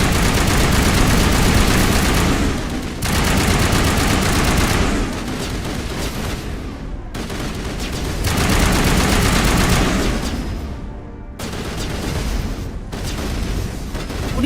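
Heavy gunfire fills a Mass Effect Legendary Edition battle: loud, dense bursts of rapid shots and booming blasts that come in long stretches and break off briefly between them.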